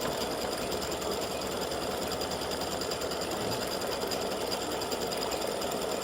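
An embroidery machine stitches small clover earrings in a dense, continuous rapid chatter, steady and close throughout without pause or voices.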